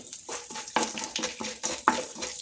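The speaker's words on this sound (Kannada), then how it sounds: "ಸಾಸಿವೆ ಸಿಡಿದ್ಮೇಲೆ ಕಡಲೆಬೇಳೆ, ಅದ್ರ ಜೊತೆ ಉದ್ದಿನಬೇಳೆ ಸೇರಿಸ್ಬಿಟ್ಟು ನೀಟಾಗಿ ಬಾಡಿಸಿ." Chana dal and urad dal sautéed with mustard seeds in hot oil for lemon rice, a steady close sizzle broken by repeated stirring scrapes and crackles, with no voices.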